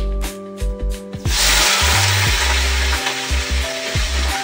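Potatoes are dropped into hot oil where tomatoes are already frying. After about a second of humming tones a sudden loud sizzle bursts out and holds steady, close by and with no talking.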